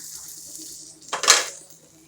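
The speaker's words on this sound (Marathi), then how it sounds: "झाकण काढून बघू पुन्हा" A metal lid lifts off a cooking pot of pigeon pea pod amti, a single quick scrape and clink near the middle of an otherwise quiet kitchen moment.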